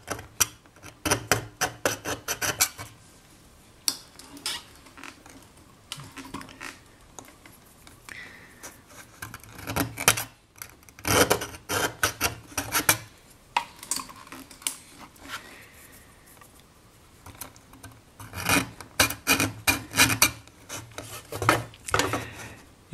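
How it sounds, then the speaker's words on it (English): Needle files rasp against the metal of a hand-pierced spatula in quick bursts of short back-and-forth strokes, close and fairly loud, with brief pauses between runs. "And with these needle files, you can get into most of your small areas."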